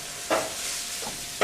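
Eggplant, garlic and onion with salt and pepper sizzle in olive oil in a pan, a steady broad frying hiss with a few brief stirring scrapes, close and fairly quiet, no voices.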